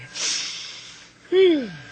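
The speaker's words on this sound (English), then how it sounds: "Stop sniffing." A man in an old radio drama sniffs audibly: one drawn-out airy inhale, then a short sharp snort with a falling voiced tone, close and clear.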